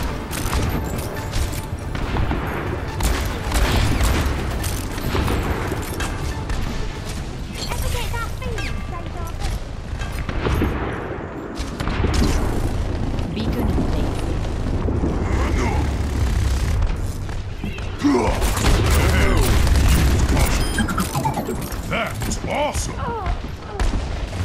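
Combat in the video game Overwatch as an enemy turret is destroyed: continuous loud gunfire, booms and mechanical clatter with no pause, while voices talk throughout.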